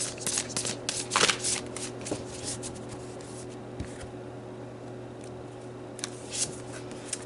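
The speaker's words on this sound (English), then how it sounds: "Let's pull you a final card" Tarot cards shuffled by hand in a quiet room, giving quick papery riffling bursts near the start, then softer scattered rubs and slides. A low steady hum runs underneath.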